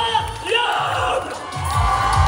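Audience at a cosplay parade festival in Troyes cheering and whooping, a dense crowd roar with yells and shouts rising and falling over a steady hall ambience, fairly loud throughout.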